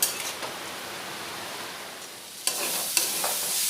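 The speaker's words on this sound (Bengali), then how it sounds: "দিয়ে এই কুঁদরিগুলো খুব ভালোভাবে ভেজে নেব।" Ivy gourd (kundri) fries in a pan of hot oil, producing a dense, even hiss with a couple of sharp utensil knocks near the middle and end, close up with no speech.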